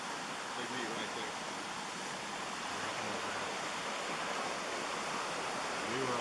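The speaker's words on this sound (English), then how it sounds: "All the 3 creeks meet into this one." Three mountain creeks meet and run together in a steady, broadband rush of flowing water on Brown Mountain, continuous and fairly near with no breaks.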